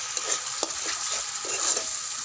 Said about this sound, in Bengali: এতে এবার এই যে বাটা মশলাটা দিয়ে দেব। দিয়ে ভালো করে একটু কষিয়ে নেব।